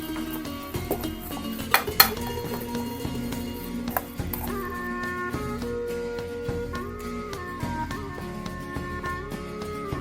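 Northern Thai catfish larb being stirred and scooped together in a bowl with spring onion and herbs, with close, irregular utensil clinks and scrapes over a steady background of kitchen noise.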